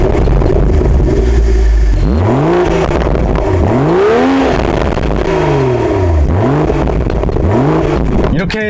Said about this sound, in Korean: 그 전에 시동 거는 소리와 배기음을 한번 제가 들려드렸습니다.